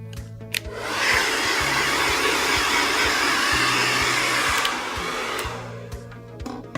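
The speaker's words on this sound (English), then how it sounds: "When you hit that cold button, you really do get that cold air, which will lock in your set" Hair dryer on its cold setting blowing air over hair rollers, a steady loud whoosh that starts after a second, runs for several seconds and then drops slightly before tailing off with some clicks.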